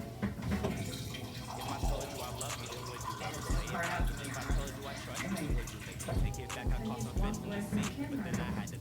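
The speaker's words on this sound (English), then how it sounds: "I fill that same can up with 12 ounces of water." Water runs from a tap into an emptied tomato paste can in a home kitchen while making vegan pizza, a steady splashing fill lasting several seconds.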